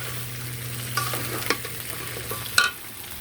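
Meat curry stirred and fried in a pan over steady heat, with gradual additions of hot water: a continuous close sizzle with scattered scrapes and clinks of the spoon, one sharper metallic knock near the end, no voices.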